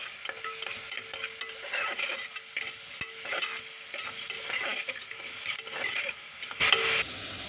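Salt, turmeric and cumin stirred into mutton curry with tender tamarind leaves in a pan: soft, repeated scraping strokes over a faint sizzle, close but quiet, with a sharper clatter near the end.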